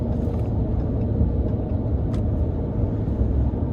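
A 2025 Ram 1500 RHO truck in auto mode accelerates through its gears, a dense steady rumble of engine and road noise continuing without a break.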